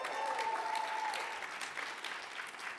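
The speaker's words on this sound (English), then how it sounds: "A round of applause." Audience applause at a livestreamed startup competition semi-final in Buffalo, a broad continuous wash of clapping that holds steady and eases slightly toward the end.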